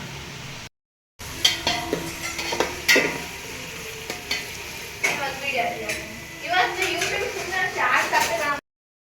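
Onions frying in a pan for a Karnataka puffed rice (mandakki oggarane) dish, with a steady close sizzle and intermittent scraping stirs and utensil clinks over the full length.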